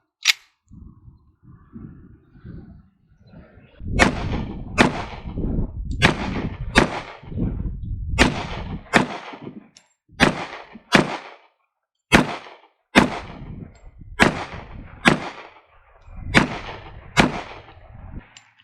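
An ADE Delta .45 ACP pistol fires 230-grain round-nose rounds in a string of about a dozen loud, sharp shots, irregularly spaced and close to the mic, with no talk.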